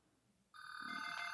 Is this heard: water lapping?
no